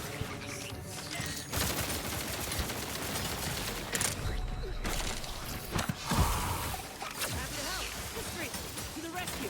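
Rapid, sustained weapon fire from The Outer Worlds video game rattles continuously in dense bursts, loud and close, with a voice talking over it.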